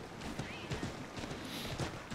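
A horse gallops in the video game Assassin's Creed 3, with quick rhythmic hoof clip-clops over a noisy background, moderate in level, with speech nearby.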